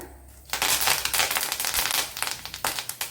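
Mustard seeds and curry leaves hit hot coconut oil with dried red chillies and set off a burst of loud, close crackling and popping that comes in rapid sputtering waves, with no talking.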